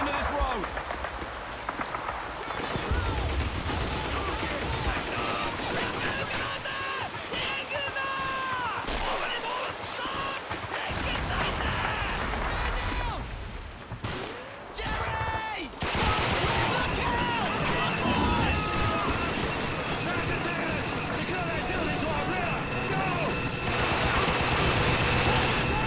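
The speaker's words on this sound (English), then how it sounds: "There's an MG42 at the end of this road!" MG42 machine gun fire in the World War II video game Call of Duty 2, a dense, continuous rattle of battle gunfire and explosions that runs throughout, with shouting voices mixed in.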